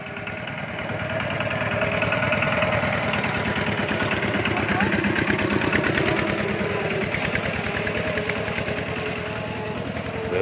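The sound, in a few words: motorcycle engine running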